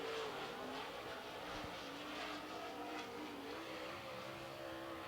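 A super late model race car running at Lancaster Motor Speedway, a steady engine drone with rising and falling revs, heard from a distance and fairly faint, with no voices.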